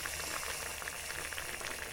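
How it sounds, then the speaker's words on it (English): Beef stew with wine and beef stock simmering in a pot aboard a sailing boat, a steady dense bubbling and gentle sizzle that continues evenly throughout, close by with no talking. "Well, it's just bubbling away there at the moment."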